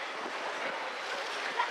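Sea waves wash steadily onto a shore along the Adriatic coast, a continuous broad rushing surf with wind noise on the microphone and no speech.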